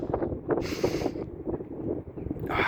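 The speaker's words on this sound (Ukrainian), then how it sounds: "звісно, вітер трохи піднявся" Gusty wind buffets the microphone in rough bursts, rising and falling over a low rumble, with no voices, while fishing in Finland.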